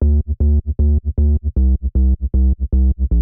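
Sub bass layer from a fast techno track, deep booming notes pulsing in a fast steady pattern with a shift in pitch midway, loud and alone.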